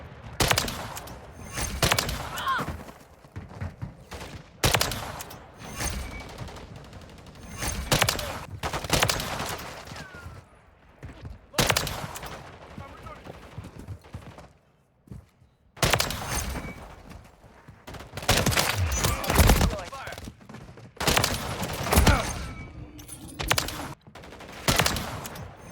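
Gunfire in a shooter video game, with bursts of rapid automatic shots and single sharp reports separated by short quiet gaps, loud and close.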